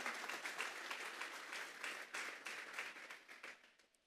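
A church congregation at a Sunday afternoon service applauds as an offering of praise, a fairly faint, busy patter of many hands that gradually thins out toward the end.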